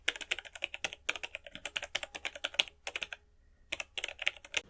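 Rapid typing on a computer keyboard, close up and steady, with dense key clicks broken by one brief pause and no voices.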